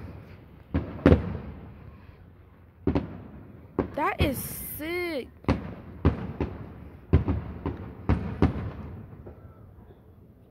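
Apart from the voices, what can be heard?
July 4th fireworks exploding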